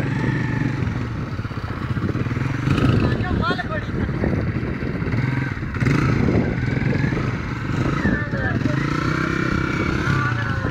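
A 125 cc motorcycle engine revs hard while the bike crosses a river, with water splashing and wind buffeting the microphone, all under steady shouting voices.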